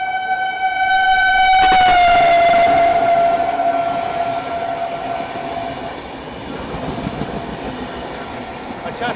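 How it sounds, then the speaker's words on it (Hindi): The Suheldev Express overtakes an AC special train between Patna and Delhi, heard from on board: a loud, tonal horn blast fades into a heavy, continuous rumble of passing wheels and carriages. "भैया ये कौन सी ट्रेन है जो ओवरटेक कर रही है हमको यहाँ पे?"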